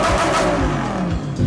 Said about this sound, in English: when you switch it into Corsa, oh yeah, it gets even louder